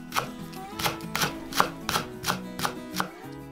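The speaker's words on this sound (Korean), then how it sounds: "파란 부분은 정리 후 잘게 슬라이스." Green onion leaves being finely sliced with a knife on a cutting board, heard as about ten crisp, evenly spaced chopping strokes, close and clear, with no voices.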